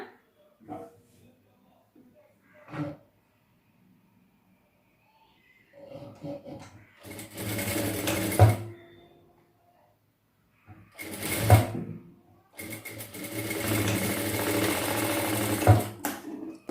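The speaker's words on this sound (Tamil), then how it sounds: "நான் தையல் போட்டு காட்டுறேன்." A sewing machine stitching a round neckline on a blouse runs in three bursts, the last one long and steady, with quiet handling and fabric sounds between the runs.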